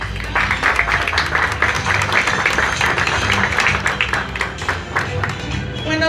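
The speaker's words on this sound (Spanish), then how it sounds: "Recibámoslas también con un fuerte aplauso." Applause from the audience at an art exhibition, a dense burst of clapping that holds steady and fairly loud for several seconds.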